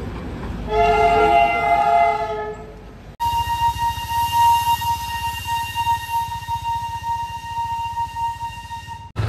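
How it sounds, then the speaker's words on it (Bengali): Darjeeling toy train passing near Ghum station, its loud sustained horn sounding twice at close range over the steady rumble and clatter of the narrow-gauge cars rolling by. "টয় ট্রেন চলে যাবে দার্জিলিং"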